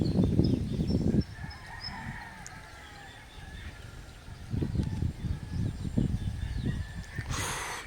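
Many birds calling outdoors in the Philippine countryside, with distant crows among them, heard as scattered faint chirps and calls over low rumbling background noise, with short bursts of louder noise at the start and end.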